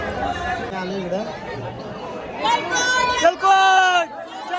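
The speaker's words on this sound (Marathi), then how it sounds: "खूप गर्दी पाहायला मिळते या ठिकाणी," Pilgrims crowding a hilltop temple fort chatter in a steady babble of many voices, with a few nearer voices calling out loudly above the crowd noise.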